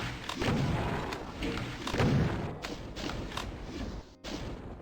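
Gunfire in the video game Doom II, a rapid series of punchy, booming shots and thuds fired close up in bursts over the game's background noise.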